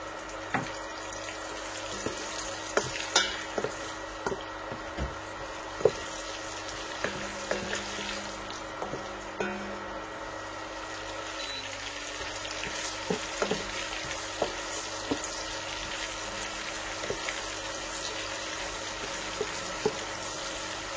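A low, steady sizzle of onions frying in oil in a saucepan, with occasional light clicks and scrapes of stirring, no voices.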